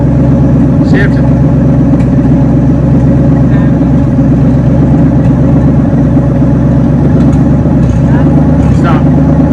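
Engine of a 1970 Ford Mustang project car running loudly and close with a steady low rumble while gears are shifted, with occasional clunks and a voice speaking over it.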